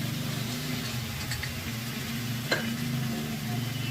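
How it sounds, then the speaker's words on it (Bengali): Ginger garlic paste and spices fry in a pan for a Bengali fish fritter curry, giving a close, steady sizzle over a low hum. A single sharp clink rings out partway through. There is no talking. "এবার আমি আদা রসুন পেস্টটা দিয়ে দিচ্ছি।"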